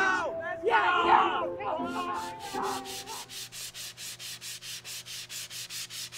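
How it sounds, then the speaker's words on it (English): Wood is sanded by hand in a steady run of rhythmic rubbing strokes, close and regular, after a burst of excited crowd cheering and shouting fades away. "You just finished sanding it down"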